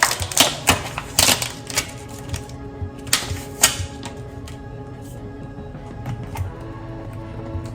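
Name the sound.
scissors cutting a piece off lamb chops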